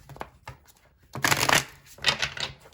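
Tarot cards riffle and slap together in a few quick bursts, close by, with short pauses between shuffles and no voice.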